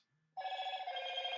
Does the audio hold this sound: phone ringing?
yes